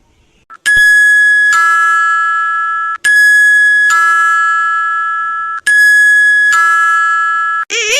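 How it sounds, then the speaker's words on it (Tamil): An electronic doorbell chimes repeatedly, loud and close, its ding-dong tone ringing three times in a row before cutting off. "காலிங் பெல்ல போட்டு நொச்சு நொச்சுன்னு யார் அடிச்சுக்கிட்டு இருக்கா?"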